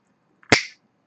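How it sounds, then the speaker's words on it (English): A single crisp finger snap rings out close and sharp, then decays quickly into near silence. "Snaps his fingers."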